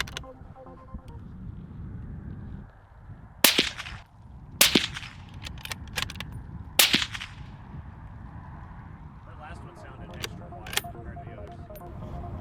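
Bolt-action rifle fired outdoors through an Aero Precision LAHAR-30 L suppressor: several sharp, loud suppressed cracks spaced a second or so apart, each with a short tail, over a steady background hum.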